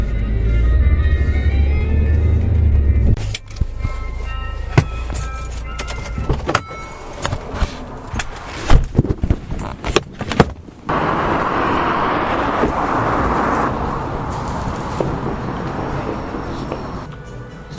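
A loud low rumble of a car cabin on the move opens, gives way to clicks and jangling, then steady road noise returns.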